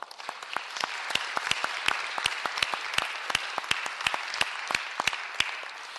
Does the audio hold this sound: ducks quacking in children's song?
no